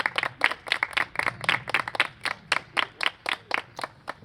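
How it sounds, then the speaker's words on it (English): A group claps along in a steady rhythm of about a dozen crisp, even claps, close by and fairly loud, with no talk over them. "Clap it up for yourselves for making it this far."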